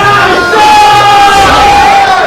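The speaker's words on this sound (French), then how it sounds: "Presque en rythme avec la foule derrière nous." A live crowd at a Super Smash Bros. Melee tournament, roaring and yelling loudly and continuously, with a massed, rising cheer.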